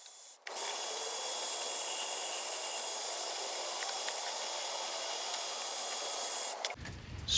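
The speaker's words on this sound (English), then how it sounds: "Spray some degreaser." A continuous aerosol degreaser spray hisses loudly for several seconds, then cuts off abruptly, while cleaning a Briggs & Stratton single-cylinder lawn tractor engine.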